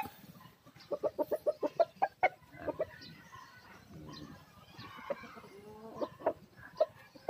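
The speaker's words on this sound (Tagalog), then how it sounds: "laking manok" Large Roundhead gamecock clucking close by in a quick run of repeated notes, then scattered softer clucks over quiet background.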